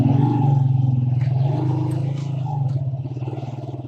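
A motorcycle rolls slowly over wet, slippery sand, its engine a steady low rumble with slight throttle pulses, close to the listener, and no talk over it.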